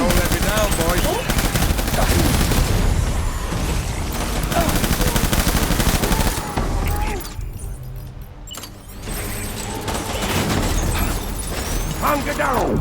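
Sustained machine gun fire in the video game Death Stranding, rapid bursts of loud close gunshots running almost continuously with a brief lull midway, mixed with shouted voices.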